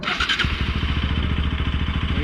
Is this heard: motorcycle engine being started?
yes